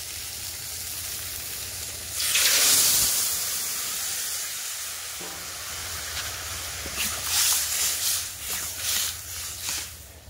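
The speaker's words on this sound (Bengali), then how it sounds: "এবার কিন্তু আমি জল ঢেলে দেবো" Water poured into a pan of frying potato and cauliflower curry sets off a sudden loud burst of steam and sizzling hiss, which gradually settles into steady crackling frying with a few more sputtering flare-ups.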